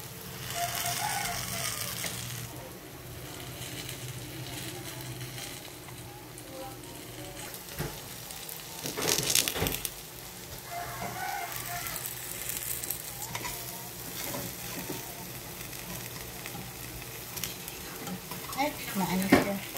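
Banana coated in flour (maruya) frying in a pan as a snack, a steady low sizzle with occasional stirring and scraping of the utensil against the pan, lasting throughout.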